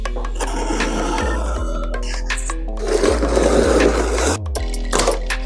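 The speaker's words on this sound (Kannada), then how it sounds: "ಸೊ ಬರ್ರಿ ಹಂಗಾರ ಅನ್ಬಾಕ್ಸಿಂಗ್ ಸ್ಟಾರ್ಟ್ ಮಾಡೋಣ." A wooden laptop table in heavy protective packaging is unboxed close up, with steady rasping, rubbing and scraping of wrapping, plus a few sharp tearing sounds partway through.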